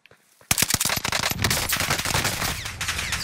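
Rapid automatic gunfire in a video game bursts in loud and close after a brief quiet start, then rattles on as sustained overlapping shots, with a faint voice barely present.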